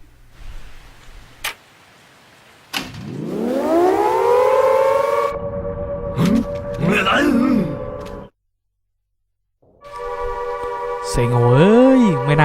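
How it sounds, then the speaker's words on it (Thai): A civil defense siren in the video game SIREN: Blood Curse winds up, holds a loud wailing tone, cuts out, then starts again, with a voice talking briefly between the wails. "จุดเปิดเสียงสัญญาณไซเรนแล้วนะครับ"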